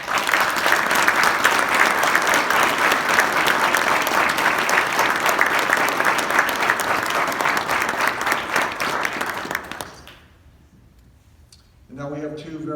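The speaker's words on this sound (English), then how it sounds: "I think you deserve a round of applause for that." Sustained audience applause at an Electric Boat gathering honouring a departing executive, dense and steady for about ten seconds before fading out, followed by a brief spoken voice at the end.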